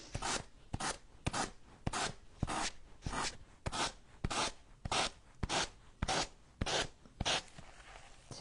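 Sanding with a new sander fitted with fine sandpaper produces steady, rhythmic rasping strokes, roughly one or two per second, close and fairly loud, with no talking.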